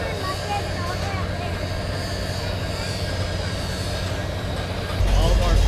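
Union Pacific Big Boy No. 4014 steam locomotive train rumbling past as a steady, loud rail roar with wheel and car noise, growing heavier near the end.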